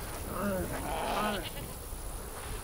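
Rams in the game Assassin's Creed Origins give a few faint bleats over a low background of ambient game sound.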